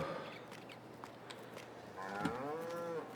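Cattle on a farm in the video game Farming Simulator 22, moderately distant lowing moos, one drawn-out call rising near the end, with faint footsteps and soft background knocks.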